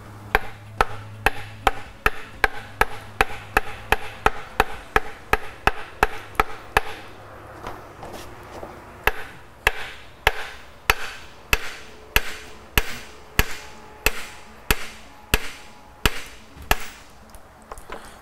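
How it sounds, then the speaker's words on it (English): Hammer blows drive a seal driver to seat the front crankshaft seal on a Duramax diesel engine, a long run of sharp, evenly spaced metallic strikes heard up close and alone, whose tone shifts partway through as the seal seats. "you can finish it up with a hammer and listen for that tone change as it"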